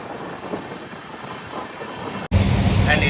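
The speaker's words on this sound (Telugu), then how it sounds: "బాగానే స్పీడ్ అయితే పోతుంది ట్రైన్." Telangana Express with LHB coaches runs at speed past Nagiri station, a steady rushing rumble of wheels and wind that jumps abruptly louder near the end.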